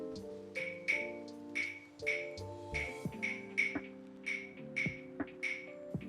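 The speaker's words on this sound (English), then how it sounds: "Claves are going to be playing a rhythm called the rumba clave" Sharp, bright wooden clicks from claves in a syncopated repeating rumba clave pattern, ringing over sustained low harmonic tones.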